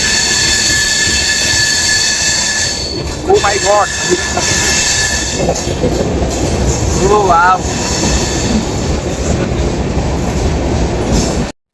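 A train runs steadily on its rails with a loud, constant rumble and clatter and brief squeals from the wheels, while passengers on board let out excited exclamations.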